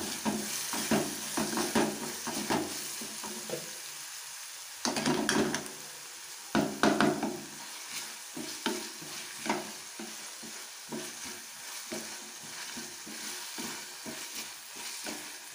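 Chopped tomato for egg bhurji cooks in a pan over the flame, with a soft continuous sizzle under repeated close scraping strokes of a spoon stirring against the pan, loudest in irregular bursts.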